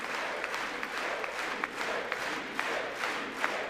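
Applause from a large crowd of lawmakers in Congress during a presidential address, steady and moderately distant, with a few louder claps standing out rhythmically across the noise.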